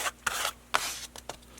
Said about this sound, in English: I'm going to pick up a little bit of this paint with my card